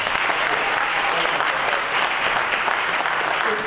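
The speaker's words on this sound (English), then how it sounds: "Give him a round of applause." Audience at a film cast Q&A in New York City claps steadily in a continuous, dense burst of applause, loud and even throughout with a few scattered voices faintly underneath.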